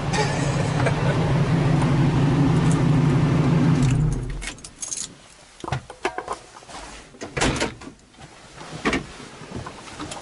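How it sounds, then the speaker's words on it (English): An old Jeep truck idles with a loud, steady engine rumble for about four seconds in freezing weather beside an iced-over lake. The engine then cuts out, leaving scattered clicks and key-like jangles. No one speaks. "Alright, now I gotta warm up the truck."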